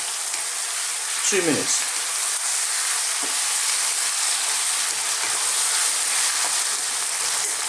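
Lamb pieces stir-fried in a pan over high heat give a steady, close sizzle and crackle throughout, with a few clattering stirs early on and brief speech over the frying.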